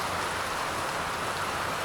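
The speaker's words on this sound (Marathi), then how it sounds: "फुल्ल जोरात पाऊस चालू आहे" Heavy rain pours steadily on an evening of a rainy day, a dense, even hiss with no pauses, loud and close throughout.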